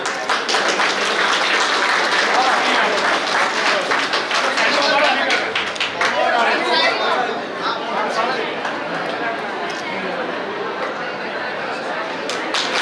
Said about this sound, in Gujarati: તાળીઓનો ગગડો બન્યા સાહેબ.